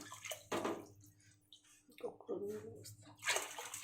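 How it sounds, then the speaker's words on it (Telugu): Water is poured in a few short splashing bursts, separated by quieter pauses, close by, with a voice faintly present. "కొన్ని నీళ్ళు పోసుకున్నాం"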